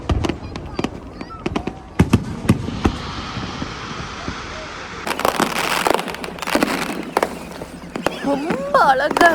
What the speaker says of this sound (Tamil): அம்மா அங்க பாரு, சூப்பரான பட்டாசு பாரு.